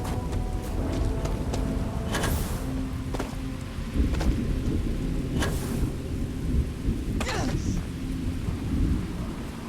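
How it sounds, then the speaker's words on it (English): Thunderstorm in the video game Starfield, with steady rain hiss and several sharp thunder cracks on an alien world, the rumbling strikes loud and close over a constant wash of falling rain. "Oh, it's a lightning storm."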